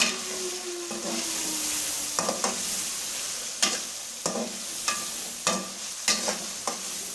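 Mutton pieces frying with turmeric for gawar phali gosht, a steady close sizzle punctuated by a series of sharp spatula scrapes and clanks as the meat is stirred, with no voices.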